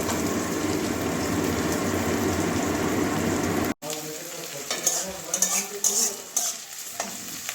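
Green chilies stir-fried in a pan with a loud, steady sizzle and scraping strokes, which break off abruptly midway and then return as thinner crackling with intermittent utensil scrapes.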